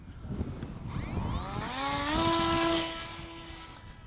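The electric motor of a Volantex Ranger 1600 RC plane whines up past half throttle, a rising tonal buzz that climbs in pitch, holds steady and loud, then eases slightly.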